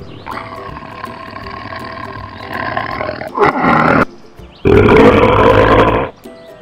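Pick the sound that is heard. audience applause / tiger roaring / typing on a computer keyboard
tiger roaring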